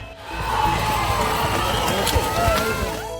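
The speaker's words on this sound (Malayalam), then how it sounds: "പാടവരമ്പത്ത് നിന്നും ഞാറ്റുപാട്ടിൻ്റെ അലയൊലികൾ ഉയർന്നു ഒപ്പം ആർപ്പുവിളികളും കയ്യടിയും കൂടിയായപ്പോൾ" Spectators cheer and shout at a bull-ploughing race in the muddy Mullamanna paddy field at Perumanna, a loud, steady crowd roar with singing mixed in and a narrator speaking over it.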